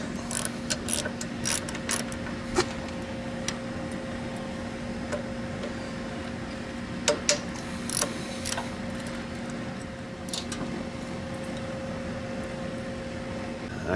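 A hand ratchet clicks in short bursts while the carburetor is taken off a John Deere RX95 riding mower, the crisp pawl ticks standing out over a steady low hum.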